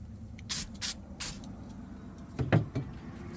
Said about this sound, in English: Spray a little brake clean on there just to make sure.